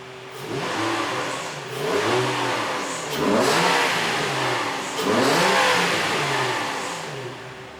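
Infiniti G35 coupe with its stock exhaust, engine revved several times in a row, each rise and fall fairly mild and moderately close, with no talking.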